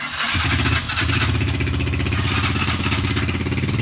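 A motorcycle engine sputters to life and keeps running with a steady, rough, loud idle, close by, struggling somewhat to hold its idle.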